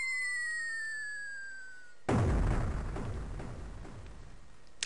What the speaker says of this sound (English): There were fireworks inside.